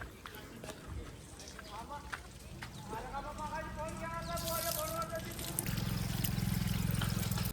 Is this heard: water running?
yes